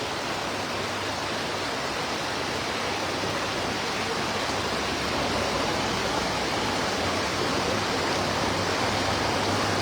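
Heavy rain pours at an outdoor cattle market, a dense, unbroken roar of rainfall that fills the whole stretch at constant loudness.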